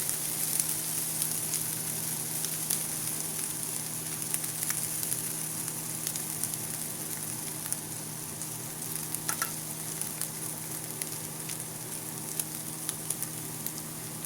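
Spices frying with chicken in hot oil for an Andhra chicken fry, a steady soft crackling sizzle with faint pops, continuous and close, with no voices.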